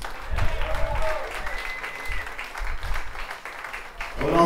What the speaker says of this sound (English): Can I get a big round of applause for Yawna,